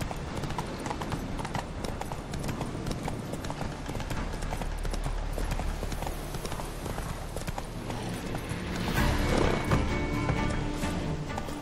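Geralt's horse Roach trotting in The Witcher 3, with steady clip-clop hoofbeats throughout and a louder burst of hooves and movement near the end.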